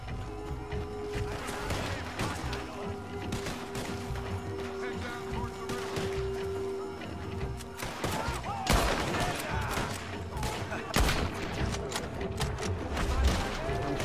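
Gunfire out in open fields during a Red Dead Redemption 2 chase: dense, repeated shots and cracks grow busier and louder in the second half over a constant ambient bed, with no voices.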